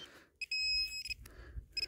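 A metal detector beeping at a strong signal while digging in soil: several short, high, pure electronic tones in bursts, faint and with low rustling between them.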